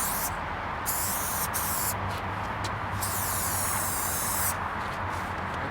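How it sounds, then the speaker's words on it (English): Spray paint can fitted with a fat cap spraying flame orange paint, a loud, steady broadband hiss running continuously throughout with short pauses and bursts. "It's like a soft, fat spray."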